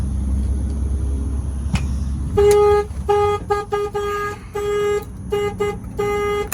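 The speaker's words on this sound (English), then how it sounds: "If somebody opens the door, the truck will, the alarm will fire off." A Peterbilt truck alarm horn honks in a loud, stuttering series of blasts, short and long toots close by after a low engine rumble.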